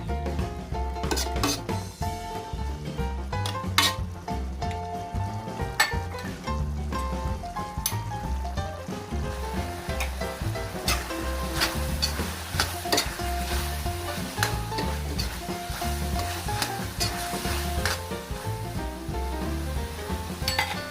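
Chicken giblets are stir-fried with lemongrass in a wok, a constant loud sizzle layered with repeated scraping and clinking of a metal spatula against the pan.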